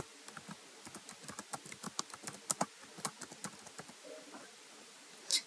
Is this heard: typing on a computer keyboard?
yes